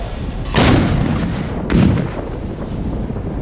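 Two heavy booming RPG shots fired from a drone, about a second apart, loud and broad, each followed by a rumbling tail in open outdoor air.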